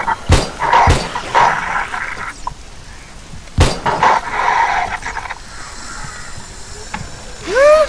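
A dog in the survival video game 7 Days to Die barks in a few sharp, separated bursts, with a high whining tone rising near the end over low game ambience.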